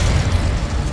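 Explosive fire spell in the video game Hogwarts Legacy, a loud, dense burst of blasting rumble filling the whole moment without pause.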